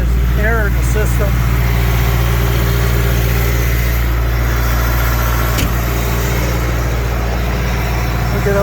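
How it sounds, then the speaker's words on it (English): A tractor's hydraulic system with suspected air in it runs at raised RPM, a loud steady engine drone with a squishing whine beneath, and someone talking over it near the start. "you can hear that hydraulics better. It's making kind of a squishing noise."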